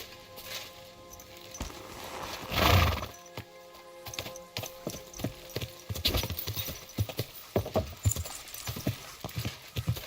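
Horse hooves clip-clopping in the video game Kingdom Come: Deliverance II, a loud snort or whinny early on, then a run of uneven, close hoof knocks growing busier toward the end.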